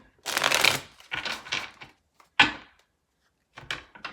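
Tarot cards are shuffled close up in several quick riffling bursts separated by short pauses, including one sharp snap of the deck.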